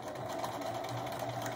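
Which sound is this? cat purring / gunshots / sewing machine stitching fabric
sewing machine stitching fabric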